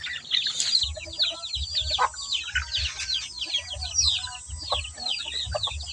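A flock of chickens clucks busily while being fed rice in the evening, a continuous chatter of overlapping clucks with soft low thumps and scratching underneath.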